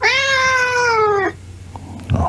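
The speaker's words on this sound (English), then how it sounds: "Here's a cat sound." A Google Home Mini smart speaker plays a single clear, drawn-out cat meow lasting just over a second. Faint room noise follows it.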